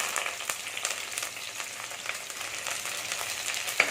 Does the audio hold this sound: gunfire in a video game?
no